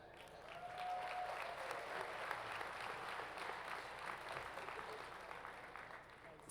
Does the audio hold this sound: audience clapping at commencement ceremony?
yes